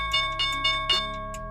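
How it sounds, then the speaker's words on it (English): Stock market opening bell, a loud electronic ringing with four evenly spaced strikes over sustained tones, heard alone without talk. "Here's the bell in 5 seconds, so good luck, guys."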